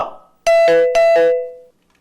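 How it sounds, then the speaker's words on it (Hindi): A two-note ding-dong doorbell rings twice at the front door of a home, each chime bright and sustained before fading out, with near silence around it. "दरवाजे से कोई बैल बजा रहा है।"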